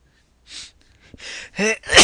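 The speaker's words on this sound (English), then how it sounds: "Hold on, I'm about to sneeze." A few sharp breathy inhales build up, then a single loud, close sneeze bursts out at the end.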